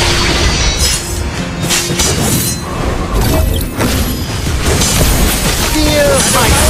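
A turret is destroyed in the Mobile Legends video game amid loud, crashing combat effects, with booming, shattering impacts over several seconds. An announcer voice speaks over the din.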